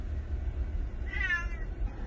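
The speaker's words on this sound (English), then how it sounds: "today we're actually taking our cats with us for the first time, and as you can tell, they're not real happy" Cats riding in travel kennels inside a car let out one drawn-out, unhappy meow over a steady low road rumble.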